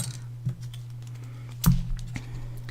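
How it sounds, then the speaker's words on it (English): Scissors cut a piece of paper off a pop-up butterfly card. A few sharp, close snips sound over a steady low hum. "I'm just going to take my scissors and snip this off"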